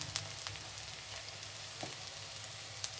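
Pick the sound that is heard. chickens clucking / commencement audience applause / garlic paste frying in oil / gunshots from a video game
garlic paste frying in oil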